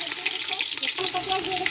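Meat sizzles and fries steadily in a hot pot during a large batch of Bengali cooking, a dense continuous crackle with faint tonal murmurs beneath, close and fairly loud throughout.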